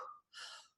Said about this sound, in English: You're gonna go in very fast and then loud exhale